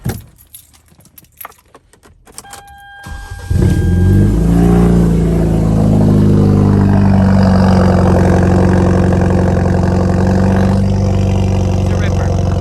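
Keys jangle briefly, then a Hyundai Genesis Coupe 2.0T turbo engine cranks and fires on a cold start, flaring up and settling into a loud, steady, high idle recorded up close.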